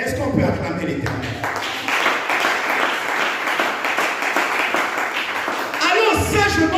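Church congregation applauding and cheering during a pastor's sermon, sustained dense clapping with voices, and speech heard before and after the applause.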